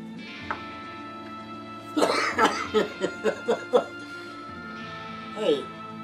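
A person coughs in a quick run of about seven harsh bursts, close and fairly loud, followed by a shorter cough a moment later against a quiet, hum-filled room.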